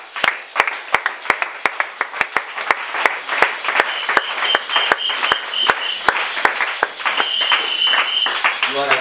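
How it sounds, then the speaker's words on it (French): A church congregation claps loudly in a steady, even rhythm, the sharp hand claps repeating about every half second while a voice rings out over the applause. "Acclamons le Seigneur très fort."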